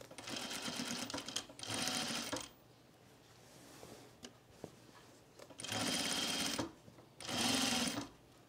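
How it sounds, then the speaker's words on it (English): Sewing machine stitching a collar onto a men's tropical shirt, running in four loud bursts of rapid whirring separated by quieter pauses with light handling noise. "And we're stitching on the collar."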